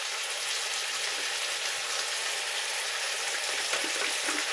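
A pan of frying food, with mustard paste just added, hisses in a loud, steady sizzle that holds evenly all the way through, with no voices.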